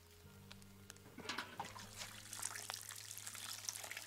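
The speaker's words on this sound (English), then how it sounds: "Watering in the rain." Crops being watered in the farming game Len's Island during rain, a soft pouring trickle of water that starts about a second in and runs steadily over a low background hum.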